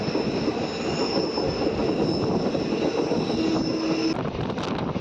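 The Tungabhadra Express rolls through a long curve, its wheels squealing against the rails in a sustained high whine over a steady rumble of carriages, loud and continuous with no talk.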